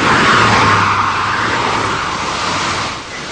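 A car passes on a road, making a loud, close whoosh of tyres and engine that holds for several seconds and then fades quickly as it moves away, with no voices.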